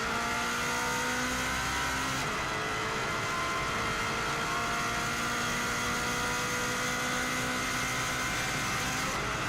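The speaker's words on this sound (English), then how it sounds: "You can see how much quicker this car accelerates from the 120 right the way through to 170." Subaru WRX STI 2016 driven flat out on the Isle of Man TT course, its engine droning steadily at high speed with a shifting tone partway through, loud and continuous with no talk.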